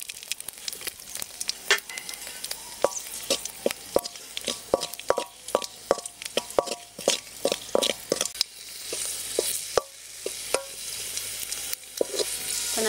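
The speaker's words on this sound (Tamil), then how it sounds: "முந்திரியை போட்டு பொன்னிறமாக வறுத்து எடுத்துக்கலாம். திராட்சையை கொஞ்சம் பொன்னிறமாக வறுத்து எடுத்துக்கலாம்." Cashews and raisins frying in ghee for payasam, a close crackling sizzle broken by many quick spoon clinks and scrapes against the pan, with no speech.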